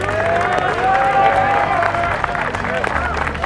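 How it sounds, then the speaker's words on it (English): A crowd at a welding academy tour event in Durango, Colorado, claps and cheers loudly, a dense continuous roar of applause mixed with voices and murmuring chatter. "So let's give them another round of applause, huh?"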